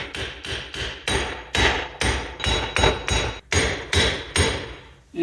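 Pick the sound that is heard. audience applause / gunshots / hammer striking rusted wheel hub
hammer striking rusted wheel hub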